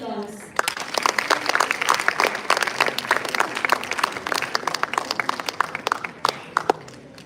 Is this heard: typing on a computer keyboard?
no